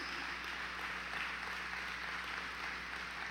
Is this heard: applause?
yes